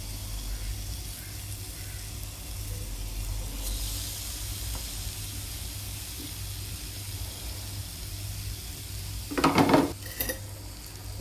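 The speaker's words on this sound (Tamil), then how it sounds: "தோசைக்கல்லில் வச்சு நம்ம இப்போது ஃப்ரை பண்ணிக்கலாம்" Marinated beetroot cooks on a dosa griddle over a slow flame, giving a steady, quiet sizzle and hiss, with a short clatter of a utensil near the end.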